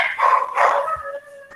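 Small dogs bark close by, and a couple of sharp yaps give way to a drawn-out, wavering howl that fades toward the end; a faint voice may sit underneath.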